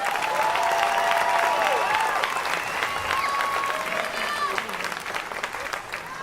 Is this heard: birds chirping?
no